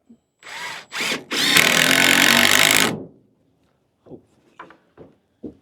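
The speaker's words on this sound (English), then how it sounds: "I'm going to try to clamp these together and screw them together" Power drill driving screws into shed boards being clamped together, two short whirring bursts then a longer steady run, followed by a few faint clicks and knocks.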